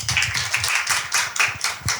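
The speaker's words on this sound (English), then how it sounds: "Applaud for him anyway." A live audience at a London Pride podcast taping gives a short burst of applause, several clapping hands close and uneven, with no voices over them.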